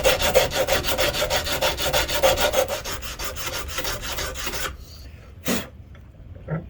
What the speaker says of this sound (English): So I'm using a piece of dowel inside the sandpaper